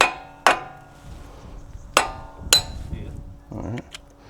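A hammer strikes a Nissan GU Patrol wheel hub with about four sharp, ringing metallic blows. The blows are spaced irregularly, with quiet shop noise between them.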